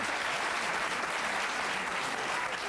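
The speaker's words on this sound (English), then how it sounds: "So actually the guys clapped for that." A studio audience on a talk show claps steadily, with dense, even applause filling the whole moment at moderate loudness and no voices standing out.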